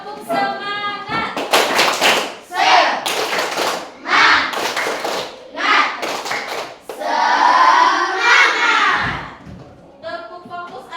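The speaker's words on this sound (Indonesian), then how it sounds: "Kita tepuk semangat dulu." Children in a classroom perform the 'tepuk semangat' clapping chant, rhythmic bursts of hand claps and taps mixed with their loud chanting voices, with a teacher's voice at the start and end.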